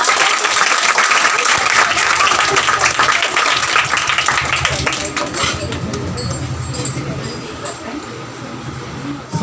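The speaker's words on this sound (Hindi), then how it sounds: "सर का शुक्रिया अदा कीजिए तालियां बजाकर" An audience at a school prize distribution program claps to thank a judge. The applause is loud and dense at first, then gradually fades and thins over several seconds.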